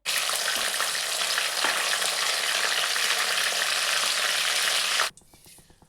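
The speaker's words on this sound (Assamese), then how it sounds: "তেল গৰম হওঁতে ইয়াতে অকণমান কাজু কিচমিচখিনি ভাজি লৈছোঁ" Cashews and raisins fry in hot oil in a kadai, giving a loud, steady, dense sizzle that holds for about five seconds before cutting off sharply into quiet.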